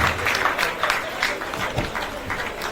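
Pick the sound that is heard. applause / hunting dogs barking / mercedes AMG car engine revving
applause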